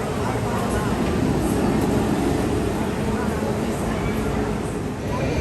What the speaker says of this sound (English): going like 90 plus miles per hour with wind blowing in your face and flying over airtime hills